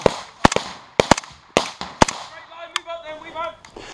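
Rapid gunfire from a military section attack exercise at Longmoor camp: sharp, loud cracks come in irregular clusters and single shots, close by, with shouted voices in between.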